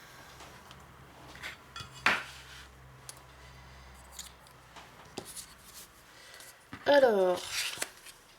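Scissors or a blade cut through a scrapbook album binding in a couple of short, scratchy bursts, with soft handling noises between them while someone speaks French nearby.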